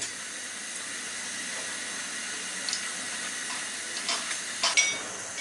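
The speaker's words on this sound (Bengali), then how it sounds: "এখন আমি একটু হালকা বাদামি করে এগুলাকে সুন্দর করে উল্টা পাল্টা ভেজে নিব" Radish pakoras frying in hot oil, a steady, fairly quiet hiss and crackle that holds throughout, with a few brief louder pops and splutters near the end; no voices.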